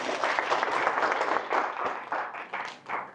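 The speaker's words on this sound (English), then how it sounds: "Another round of applause for Davis, please." An audience applauds a speaker at a civil society launch event, a dense wash of many hands clapping that swells and fades in waves, loud and close, without any voice.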